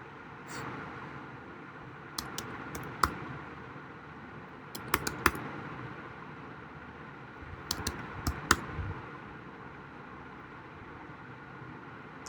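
Scattered bursts of quiet key clicks as a user name is typed on a computer keyboard, in short clusters separated by pauses, faint over low room noise.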